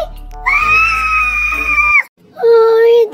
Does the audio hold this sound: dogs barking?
no